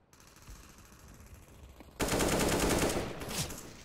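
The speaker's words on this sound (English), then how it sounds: "Where's that last shot from?" A sudden burst of automatic rifle fire in the video game CS:GO, loud and rapid after a quieter stretch of game ambience, continuing for about two seconds.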